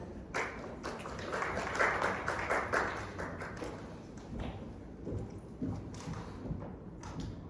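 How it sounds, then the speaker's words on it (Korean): Moderate audience applause at a business forum welcoming a presenter, scattered claps swelling early and then thinning out toward the end. "큰 박수로 환영 부탁드립니다"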